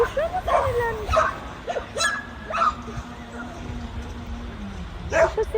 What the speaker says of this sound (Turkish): Yine köpek geliyor.